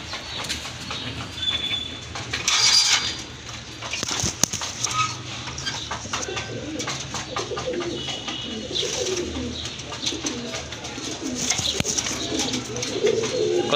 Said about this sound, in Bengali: এই যে দেখেন মাশাআল্লাহ দেখার মতো একটা কবুতর